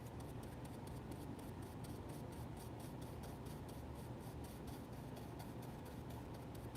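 Linseed oil is rubbed and blended into paper with quick, even, rhythmic strokes that make a soft, close, scratchy rasp, quiet and steady, with no talking.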